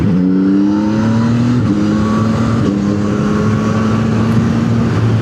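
Motorcycle engine revving under hard riding with traction control off, a loud continuous drone with rising and falling harmonic pitch sweeps as the throttle opens and shifts, steady wind-blasted roar throughout.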